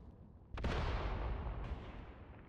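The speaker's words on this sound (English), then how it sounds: "now our mortars are firing here" A single heavy mortar blast booms out in the war game Mius Front, a sudden loud thump followed by a long rumbling decay over quieter battlefield noise.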